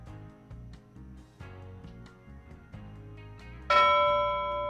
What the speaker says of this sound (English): And I think we're close to ringing that bell.